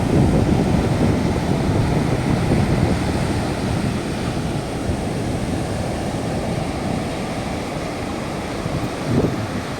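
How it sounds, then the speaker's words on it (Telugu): Sea waves washing onto Golden Beach at Chirala, Andhra Pradesh, in a continuous broad roar, surging and receding with no voices, fairly close and steady. "చాలా బాగా వస్తున్నాయి అలలు మాత్రం సముద్రంలో"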